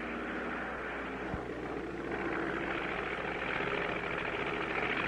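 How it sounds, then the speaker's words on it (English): Cartoon airplane flying through icebergs in the Arctic, a steady broadband engine drone and rushing roar that holds loud and constant throughout with no voices. "We're going to thread a needle with an airplane."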